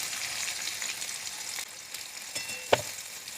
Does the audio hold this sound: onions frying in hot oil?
yes